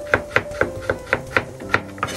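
A kitchen knife slices turnip into thin strips on a cutting board, giving a quick, even series of about nine crisp, close taps at a steady rhythm.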